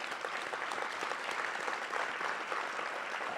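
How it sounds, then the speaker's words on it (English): Round of applause at a public meeting, dense continuous clapping from a sizable audience, even and unbroken throughout. "Can we give them a round of applause"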